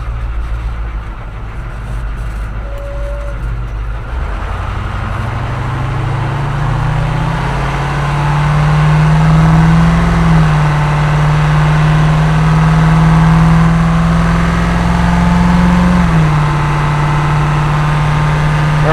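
A Ford F600 truck's naturally aspirated 210-horsepower Cat 3208 diesel idles loudly up close, then climbs into a sustained higher-revving drone before dropping back near the end.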